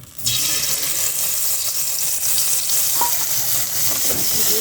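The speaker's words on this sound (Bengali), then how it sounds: "সাদা তেল দিয়ে জিরে মরিচটা বাটা ছিল সেটা দিয়ে দিলাম" Cumin and chili paste hits hot white oil with a sudden burst, then keeps up a loud, even sizzle with a couple of faint stirring knocks near the end.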